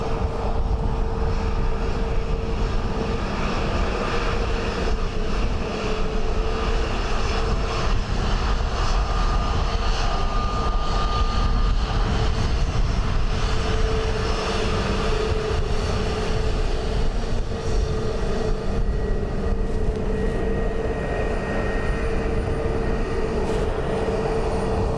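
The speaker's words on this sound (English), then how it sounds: "Ryanair landing from Edinburgh" A Ryanair airliner landing at Dublin Airport on a windy day, a continuous loud jet engine roar mixed with wind rumble that holds steady for the whole stretch.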